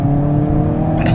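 A 2021 Hyundai Kona N SUV on sticky Pirelli tyres driven hard around a go-kart track, its engine holding a loud, steady drone up close with a slight rise in pitch near the end.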